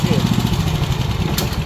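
A 13 hp high-pressure washer engine runs loud and close with a steady, rapid mid-pitched chugging throb, like a small motorcycle idling.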